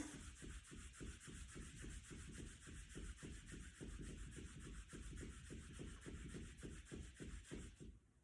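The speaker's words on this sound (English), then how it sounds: "then we're going to rub 36 times" Palms rub briskly over the lower back during a qigong routine, a steady rhythm of close, soft swishing strokes repeated many times without talk.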